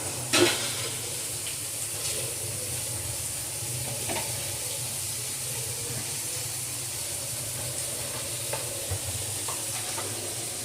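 Garlic-rice ingredients being sautéed with salt in a pan give a steady low sizzle and frying hiss, with a few soft scrapes and stirring knocks scattered through it.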